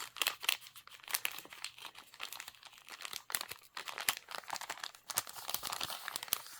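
A small pouch from an unboxing box is unwrapped up close, with continuous crinkling and crackling of packaging, quick tearing rustles and irregular bursts of handling noise.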